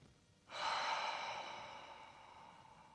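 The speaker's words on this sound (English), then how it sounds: "Take a deep breath in through your nose." One deep breath during a Pilates and yin stretching session, a soft breathy exhale that starts suddenly and trails off slowly over a couple of seconds, close and quiet.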